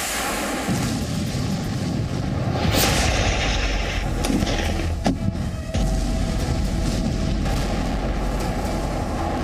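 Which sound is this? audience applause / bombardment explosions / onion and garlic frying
bombardment explosions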